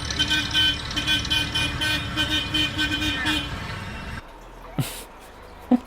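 A car horn toots steadily with traffic noise behind it, then stops; a couple of short sharp sounds follow in the quieter end.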